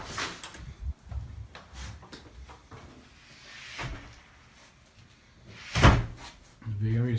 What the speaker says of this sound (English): I'm going for the door